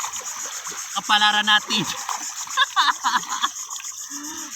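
Sea water splashes and sloshes in bursts close by while people talk and call out over the wet, choppy sound.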